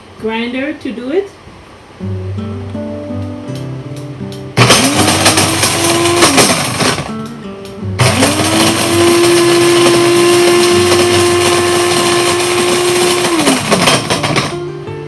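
Two bursts from a coffee grinder whirring smoked dried mushrooms into powder: a short one of about two seconds, then a longer steady run of about six seconds, loud and close, with someone talking before and between them.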